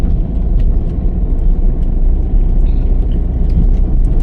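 Car engine during a driving lesson, throttle eased on gently while turning: a loud, steady low rumble from inside the cabin, with faint clicks and rattles and no talk over it.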